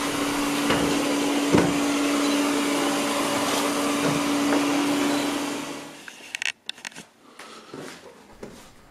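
A Deebot Ozmo T8 robot vacuum runs with a loud, steady suction whir while driving over an 18 mm plate, then cuts off into scattered bumps and clicks as it climbs the edge.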